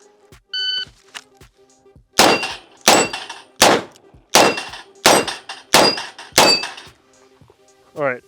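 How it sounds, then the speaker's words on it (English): Seven sharp revolver shots from a Smith & Wesson 586 L-Comp firing .357 at steel plates, each a loud crack with a ringing metallic clang, spaced under a second apart, followed by a faint beep. "We're gonna keep shooting 357 until we get all 6 plates."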